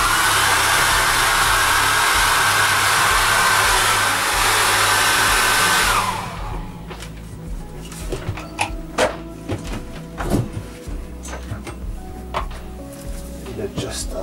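A hair dryer blasts loud and steady for about six seconds while drying acrylic paint, then cuts off. Quiet handling and brush sounds follow.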